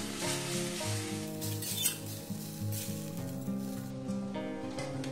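Spice paste with a splash of water fries in oil for a cauliflower dish, sizzling faintly beneath louder steady background music with occasional stirring clinks.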